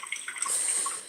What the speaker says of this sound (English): I love is the fact that water is warm, so washing dishes is really enjoyable.